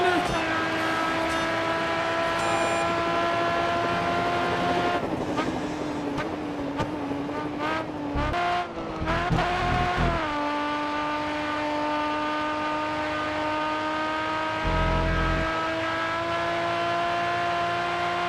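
Race car engines from the GRID Autosport video game during a night race, steady high-pitched whines with shifting tones and gear changes, continuous and loud with a few brief bursts, while someone talks over the racing.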